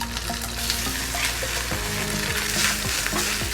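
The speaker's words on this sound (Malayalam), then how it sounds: "ആ തേങ്ങ നമുക്ക് ഇതിനകത്തേക്ക് ഇട്ട് കൊടുത്തിട്ട് നല്ല ബ്രൗൺ കളർ ആവുന്ന വരെ ഒന്ന് വറുത്തെടുക്കാം" Grated coconut frying in a pan until brown, a dense continuous sizzle with busy crackle, close and loud, with faint stirring.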